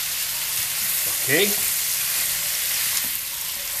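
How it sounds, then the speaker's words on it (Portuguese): Beef stirred in melted butter in a pan for beef stroganoff, a steady sizzle with a brief scraping stir near the middle, close and fairly loud, with a short spoken word. "Aqui nós vamos mexer bem para que a manteiga incorpore a carne"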